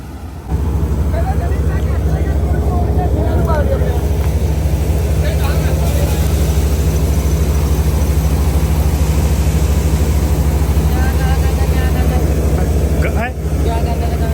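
Tractor engine droning steadily and loudly during a wheat harvest in a village field, constant low rumble throughout, with people talking over it.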